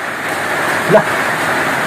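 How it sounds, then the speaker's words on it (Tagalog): Steady, dense rain pours continuously, a broad hissing wash with a faint voice-like murmur briefly rising in the middle. "Natakot siya sa malakas na ulan."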